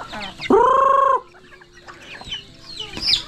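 A chicken lets out a loud drawn-out squawk up close, followed by softer clucks and a sharp high call.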